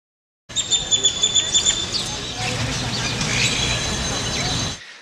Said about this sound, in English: Lots of birds kind of hang out in the tree.